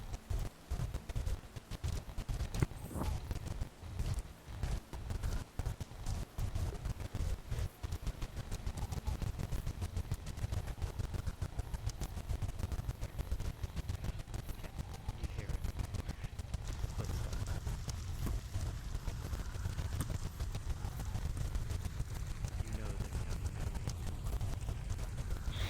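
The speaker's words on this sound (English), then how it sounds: "I can hear their footsteps." Heavy golem footsteps in a VRChat roleplay thud in a steady, rapid clip-clop rhythm, continuous and fairly close over a dense low rumble, with no talk.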